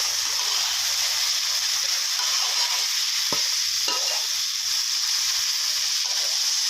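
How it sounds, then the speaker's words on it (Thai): Marinated pork stir-frying in a pan for a chilli-paste and long-bean dish, with a little water added, a steady loud hiss throughout and a couple of sharp scrapes from the spatula, no voices. "ครับก็ผัดไปเรื่อยๆนะครับ ให้หมูพอสุกนะครับผม"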